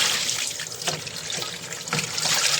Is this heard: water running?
yes